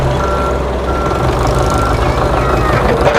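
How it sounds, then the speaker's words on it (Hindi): Heavy construction truck reversing on a muddy village road build, its backup alarm beeping steadily over a constant low diesel rumble, with a tractor working nearby. "अब ये रिवर्स होना शुरू हो गई है"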